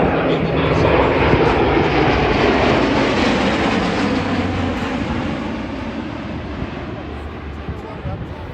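An Airbus A400M military transport aircraft takes off at the RIAT 2024 air show, its turboprop engines giving a loud, continuous roar that slowly fades as it climbs away, with commentary faintly beneath.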